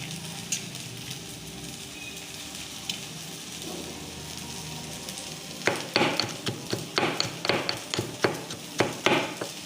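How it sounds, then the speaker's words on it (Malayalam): Grated coconut pounded for a Kerala potato thoran, a run of sharp, regular thumps from about the midpoint onward, close and moderately loud, after a stretch of faint kitchen noise with light stirring and sizzle. "രണ്ട് ടേബിൾ സ്പൂൺ തേങ്ങ എടുത്തിട്ടുണ്ട് ഇതൊന്നും നമുക്ക് ചതച്ചെടുക്കാം"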